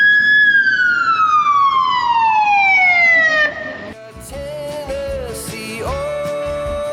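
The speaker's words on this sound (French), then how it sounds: "l'ambulance est derrière, elle va vouloir passer" A loud ambulance siren wails with a long descending tone, then shifts into a rapid warbling pattern, close by behind the vehicle and dominating the scene.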